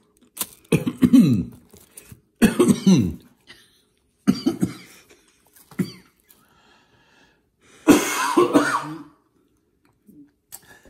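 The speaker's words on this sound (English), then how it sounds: "it's just peppery in my throat making me cough" A series of harsh, wheezy coughs from ghost pepper wings irritating the throat come in several bursts, close and loud, with short quiet gaps between them.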